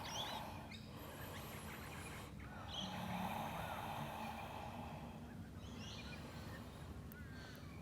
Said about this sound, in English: birds are being a bit loud